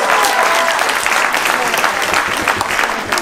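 A school audience at a student CreatAthon event bursts into loud, close applause, many hands clapping densely with a few cheers and voices mixed in, fading slightly toward the end.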